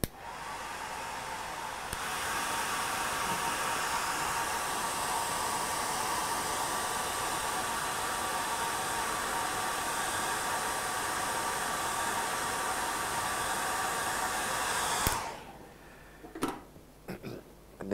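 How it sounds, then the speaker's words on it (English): A hair dryer blows steadily for about fifteen seconds to dry the paint on a figure painting, a loud, even broadband rush that cuts off abruptly, followed by a few faint handling clicks. "so let's put the hair dryer on"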